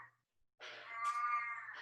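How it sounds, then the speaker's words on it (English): A small cat lets out a loud, drawn-out meow nearby after a brief quieter cry, standing alone against a silent background. "That's a cat that's like this big somehow making that much noise."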